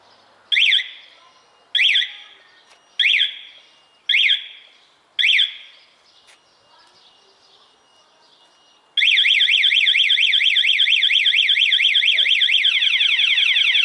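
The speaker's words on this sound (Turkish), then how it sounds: "Daha sonra da alarm çaldırıyor." A motorcycle alarm chirps five times in a regular rhythm, then breaks into a loud, continuous warbling siren that keeps sweeping up and down.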